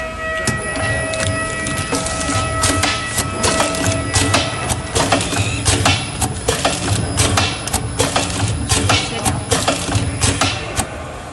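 A bag making machine runs steadily after being started, giving a loud mechanical hum with sharp, rapid clicks and clatters that repeat in a regular cycle, close by, with no voices.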